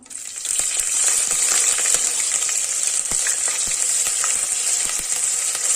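Crushed green chillies and ginger fry in ghee with a loud, steady hiss that swells in after a brief quiet start, broken by occasional sharp pops and light clinks, with no voices.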